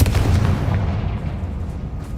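A Confringo blasting spell goes off in the video game Hogwarts Legacy: a loud, booming burst that rumbles and fades over a couple of seconds.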